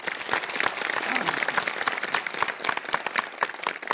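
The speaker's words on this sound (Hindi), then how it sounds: "सुजीत सर के लिए एक बार जोरदार वाली ताली" Audience applause breaks out at a company training program, a steady patter of many hands clapping that fills the whole stretch at moderate loudness, with some crowd noise and voices mixed in.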